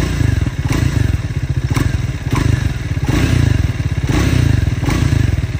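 A Triumph motorcycle engine, started and revved, runs close and loud with a fast, steady pulsing beat and brief throttle swells, alone without talk.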